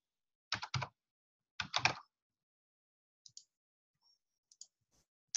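Typing on a computer keyboard while entering a formula, two short bursts of close, crisp key clicks followed by a few sparse, fainter single taps in a quiet room.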